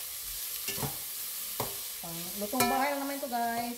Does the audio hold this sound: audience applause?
no